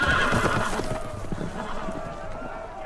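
Loose horses in the Game of Thrones video game, neighing loudly with hooves pounding beneath, a dense, close rush of galloping and whinnying that gradually eases, with no talking.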